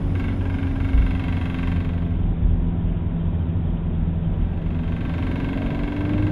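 Brand-new BMW M3 with an upgraded air filter, its engine idling with a steady low droning hum and a faint slowly wavering vibration tone, continuous and fairly close, with no talking.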